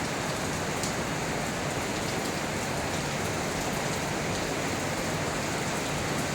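Heavy rain pouring steadily during a signal number 2 storm in Cavite, a dense, unbroken roar of drops hitting surfaces nearby, loud and constant with no voices.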